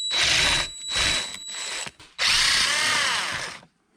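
Power drill or impact driver spinning out 10mm bolts that hold an airbag module to the frame of a Ford F-150 seat backrest, in three loud close bursts of whirring with brief pauses between.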